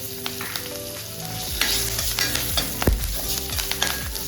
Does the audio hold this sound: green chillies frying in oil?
yes